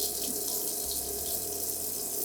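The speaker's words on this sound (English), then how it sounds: "I'm going to wash out my cup holder here." Water runs steadily from a tap into a sink while a Nespresso machine's cup holder is washed, a continuous splashing hiss up close.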